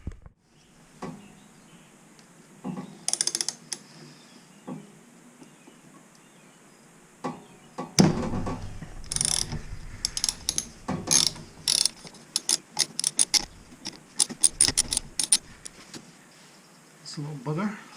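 A ratchet clicks in short bursts while removing the Akrapovic dB killer from a KTM 790 Duke exhaust, with close rapid pawl ticking and metal scraping, and someone talks at times between the bursts.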